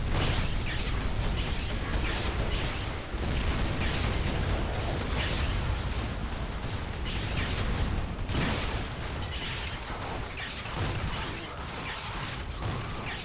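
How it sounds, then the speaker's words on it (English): Rockets bursting in a Warhammer 40k video game battle at a trench line, a dense continuous barrage of pops, blasts and mechanical clatter that stays loud throughout. "A lot of rockets."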